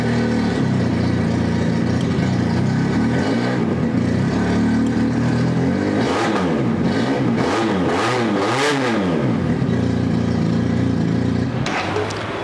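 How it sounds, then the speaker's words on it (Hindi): A Harley Davidson 400cc replica motorcycle idles loudly through an exhaust with its dB killer removed, then revs several times in rising and falling bursts before settling back to a rumbling idle, close and alone. "इसके ऊपर जो एक एग्जॉस्ट सिस्टम है इसके अंदर DB किलर रिमूव किया गया है, काफ़ी अच्छी साउंड है इसकी"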